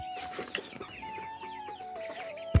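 Several hens and cocks cluck and murmur nearby in a soft, irregular chatter on a poultry farm, with a brief louder knock at the very end.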